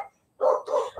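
Dogs at a house bark in a few short, loud bursts close by, separated by brief pauses, with no talking.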